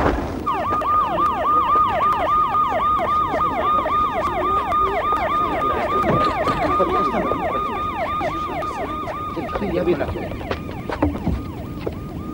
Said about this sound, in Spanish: ¡A una ambulancia!